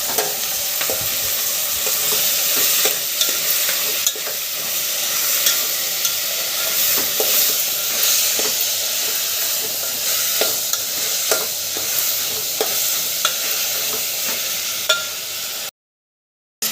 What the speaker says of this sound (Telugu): తర్వాత టమాటాలు వేస్తున్నాను.